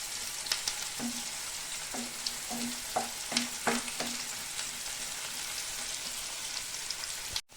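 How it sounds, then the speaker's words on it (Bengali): Chopped onions and green chillies fry in hot oil with a constant crackling sizzle, punctuated by roughly regular spatula scrapes and taps against the pan, near and unaccompanied by speech. "তো পেঁয়াজ কুচানোটা আমি ভালো করে একটু ভেজে নেব।"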